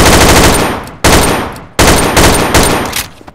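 Gunfire from a Payday 2 weapon in a video game: three or four loud, close bursts of rapid automatic fire, each breaking off sharply and leaving a short decaying tail.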